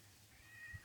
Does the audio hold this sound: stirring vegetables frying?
no